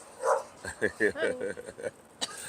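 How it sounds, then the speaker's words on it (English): Dogs scuffling and barking during a play fight outdoors, a quick run of close, loud barks and yips over a couple of seconds with a brief whimper, then a short sharp sound at the end. "We got the dogs out here fighting. It's a dog fight, y'all."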